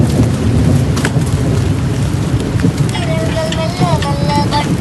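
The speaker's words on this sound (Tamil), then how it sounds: "கொஞ்சம் மழை பெய்கிறேன்." Steady, loud rain pours down during a mountain hike and camping trip at Kabaragala, a dense wash of drops that runs the whole time, with a voice briefly audible late on.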